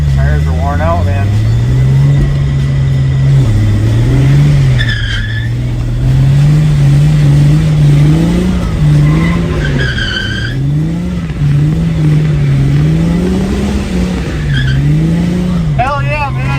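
A New Edge Ford Mustang drifts on a wet track on worn-out tires, its engine droning loud and steady with wavering revs through the whole stretch, brief tire squeals cutting in, while people talk over it.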